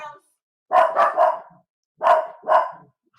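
Dogs bark in short bursts nearby, a quick cluster of three sharp barks followed after a pause by two more, loud against an otherwise quiet background.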